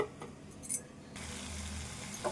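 A potato fry seasoned with chilli powder and salt is stirred in a steel kadai. A soft, low sizzle runs under a few light metallic clinks and scrapes from the spoon, and the frying hiss swells midway.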